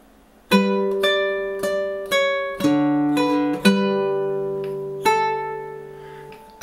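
Fingerstyle acoustic guitar plays a measure of a Toy Story 2 song, with about seven plucked notes and chords ringing into each other at a slow, gentle pace, close and alone.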